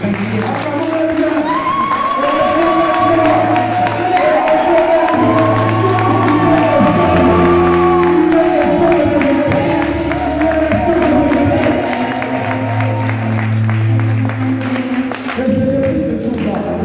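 A church congregation cheers and acclaims God with sustained, dense crowd voices, shouting and calling out loudly together over a continuous background of music and clapping.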